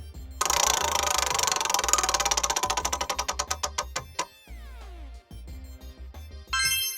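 A prize wheel spins with rapid clicking ticks that gradually slow and spread out until it stops, followed by a short bright chime, loud and close with no talking.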